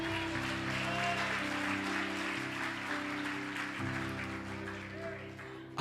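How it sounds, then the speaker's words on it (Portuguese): A church congregation applauds steadily together for several seconds, the clapping blended with sustained organ or keyboard tones and a murmur of voices throughout. "Você pode aplaudir o nome do Senhor?"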